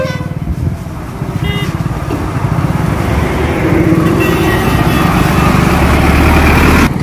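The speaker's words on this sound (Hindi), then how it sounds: "वो गाड़ी भी आ रही है।" A motor vehicle on a national highway between Jalgaon and Aurangabad near a bus stop, its steady engine rumble building louder over several seconds as it approaches, with broadband road noise throughout.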